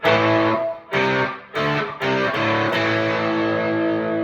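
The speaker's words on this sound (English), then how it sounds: "your nice, just gorgeous fuzz face, kind of distortion, fuzz, overdrive all rolled into one there" Electric guitar played through a Fuzz Face fuzz pedal with the guitar volume backed down to 7, giving several loud saturated fuzzy chords that are struck in quick succession, with the last one left ringing out.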